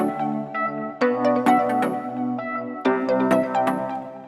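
UKG type beat made in FL Studio, a bright melodic synth with counter melodies over a bouncy groove, close and clear, no voices.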